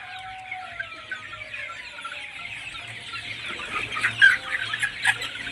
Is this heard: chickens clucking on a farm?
yes